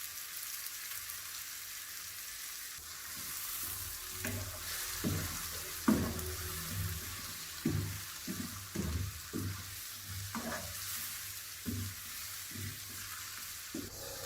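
Crushed garlic frying in a pan, a soft constant sizzle under intermittent knocks and scrapes of stirring, fairly quiet and close, with no talking.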